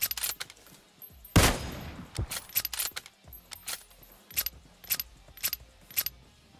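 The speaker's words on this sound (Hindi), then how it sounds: "कार 98 उठाई है, चला भी लिया जाए इसको जरा थोड़ा सा।" A Kar98 sniper rifle in PUBG Mobile fires one loud, sharp shot with a trailing echo, followed by a series of crisp metallic clicks and clacks at an irregular rhythm, with no voices.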